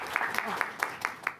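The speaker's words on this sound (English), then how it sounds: "Let's give a round of applause." Audience applause after a conference paper presentation: a short run of evenly spaced, distinct claps, moderately quiet, with faint room ambience and some murmured voices underneath.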